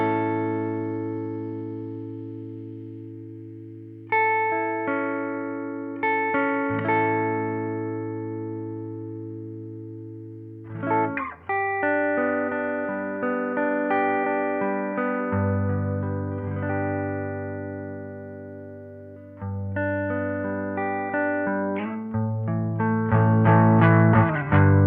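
Sustained tones run through a Meris Mercury X reverb pedal, with a ladder filter placed on the drive signal. Layered, shimmering chords swell and overlap with long decays, alone and fairly quiet, and the notes change every few seconds.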